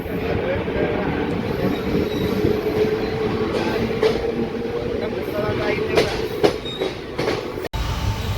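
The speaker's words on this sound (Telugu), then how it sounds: "మన ట్రైన్ అయితే బయలుదేరింది నెల్లూరు రైల్వే స్టేషన్ నుంచి" Thiruvarur Special Express train travelling after leaving Nellore station, with a steady, loud rumble of wheels and carriages and scattered rail clicks throughout, heard close from on board.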